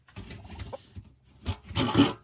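Chickens and turkeys cluck and chatter in short bursts, soft and nearby, with scattered squawks and rustling between calls, expecting treats.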